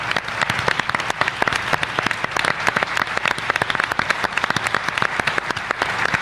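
An audience applauds a musician with loud, dense, close clapping. Sharp individual claps crackle in a continuous rapid patter throughout.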